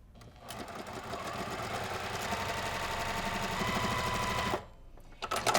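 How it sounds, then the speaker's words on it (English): A sewing machine runs steadily for about four and a half seconds while stitching three pieces of a 1930s-style quilt block together, then stops briefly before a few short bursts of stitching close to the mic, with no voices. "we will go sew these 3 together"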